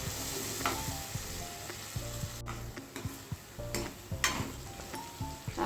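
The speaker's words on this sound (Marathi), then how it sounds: "आता ही ग्रेव्ही आपल्याला छान तेल सुटेपर्यंत शिजवून घ्यायची आहे।" Onion-tomato gravy for an aloo matar curry frying in oil in a pan until the oil separates, giving a steady close sizzle with occasional stirring scrapes and clinks and no talk.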